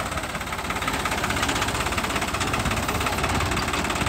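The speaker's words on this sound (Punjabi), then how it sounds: "ਉਹ ਕੋਈ ਟਰੈਕਟਰ ਵੀ ਖੜਾ ਹੋ ਜਾਂਦਾ ਏ" A tractor engine idles steadily while being slowly maneuvered and backed up, a continuous close, loud low rumble with a throbbing, knocking pulse that holds constant throughout.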